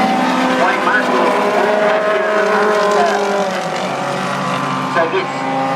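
Classic race cars, including a Ford Mustang, a Datsun 260Z and Mark 1 Escorts, roar along a racetrack at the 2013 NZ Grand Prix meeting, their engines a loud continuous snarl beneath steady commentary.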